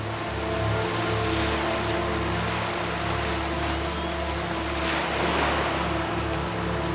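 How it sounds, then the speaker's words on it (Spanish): Ocean waves washing onto a shore, a steady broad roar of surf with a low rumble underneath, constant and fairly loud, with no voices. "Las olas marcan una suave transición entre el océano y la tierra."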